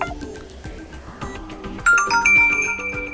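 A Realme Q2 phone plays a ringtone: a bright melodic chime with a series of tonal notes over a busy musical backing, growing louder partway through, with no talking.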